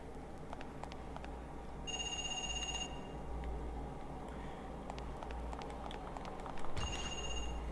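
A telephone rings in the video game Parasite Eve 2: two short electronic trilling bursts several seconds apart, faint beneath a steady low game hum with scattered clicks.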